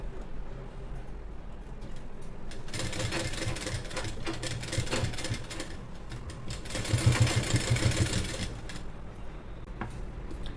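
A sewing machine stitches a plain blouse, running steadily for about ten seconds with a fast mechanical chatter that swells louder near the end.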